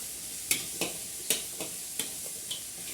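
Chopped pumpkin (kaddu) being stirred in a pan over a wood-fired chulha, with a spoon scraping and clacking against the pan in several sharp, separate strokes and a soft sizzle under them; no talking.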